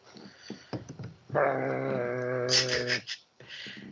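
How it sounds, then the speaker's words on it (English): A dog growls in a deep, sustained, rumbling tone lasting a couple of seconds, rising into a whimpering whine at the end, close by, with a few short snuffles and noises before it. "Hey, doggy."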